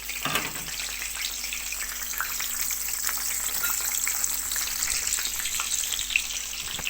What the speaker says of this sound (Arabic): جينا نقلي البتنجان مع بعض. الزيت قدح اهو معايا. هسقط البتنجان كله.